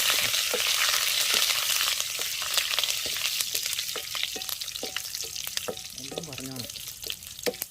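Ingredients for a dried fish curry fry in a pan with a steady, close sizzle, broken by the clatter of stirring scrapes, and no one speaks.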